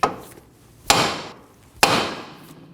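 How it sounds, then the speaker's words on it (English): Three sharp metallic hammer strikes on a 2008-2015 Scion xB steering knuckle ring out about a second apart, each with a short ringing decay, close and loud. "Using a hammer, tap on the side of the knuckle where the tie rod goes in to break the tension."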